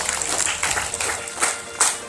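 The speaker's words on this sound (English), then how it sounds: "Let's give a good round of applause to them." Applause from students and teachers at a school assembly, a steady patter of many hands clapping for about two seconds, moderately loud and fairly even.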